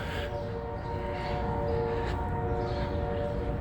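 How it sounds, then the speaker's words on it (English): A steady low rumble with sustained horn-like tones, like a train running nearby, continuous throughout with no talking. "You can hear that train a running."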